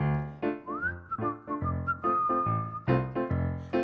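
Whistled melody of a tune, a clear sliding whistle line carried over bouncy piano chords and backing music at a virtual piano bar singalong.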